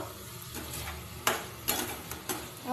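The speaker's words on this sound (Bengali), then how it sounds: "ভালো করে আমি নেড়ে চেড়ে কষিয়ে নিচ্ছি এই ঝোলটা কিন্তু খেতে খুব ভালো হয়" Fish curry being stirred and sautéed in a pan, a soft continuous sizzle of frying under scattered scraping clinks of a spoon against the pan, with a few sharper knocks near the end.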